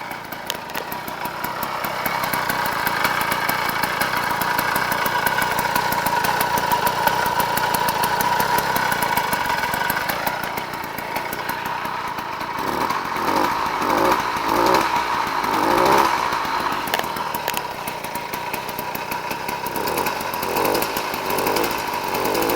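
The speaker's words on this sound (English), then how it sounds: "there's the finished gas bike" A 49cc two-stroke gas engine on a kit-built motorized bicycle, running on break-in oil mix, buzzes steadily and fairly loud close by for the whole stretch, with slight pitch wavers and a rougher pulsing patch midway.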